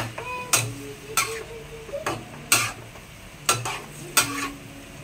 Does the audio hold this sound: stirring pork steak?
yes